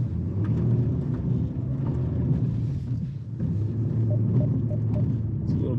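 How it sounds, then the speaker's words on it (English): A 2022 Nissan Pathfinder's engine runs at full throttle off pavement with traction control off, a steady low droning rumble held under a close, continuous hum with faint whirring tones. "And here we go, full throttle again."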